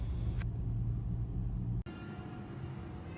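A car drives along a road on the approach to Cambrils, Spain, giving a steady low rumble of engine and tyre noise throughout, broken by one brief dip partway through.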